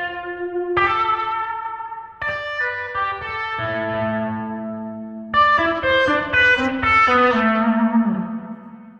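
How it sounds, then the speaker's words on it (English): Electric guitar run through the Rematrix Exciter 1 preset with a strong hall reverb, playing loud sustained chords and notes whose long ringing tails blur into each other. "Suppose we put a strong hall reverb in there."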